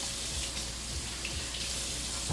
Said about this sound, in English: So quick hand wash.